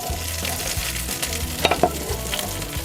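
Sliced onion, carrot and celery hit a hot pan on an open grill with a steady sizzle, broken by a couple of sharp clacks of vegetables sliding in near the end.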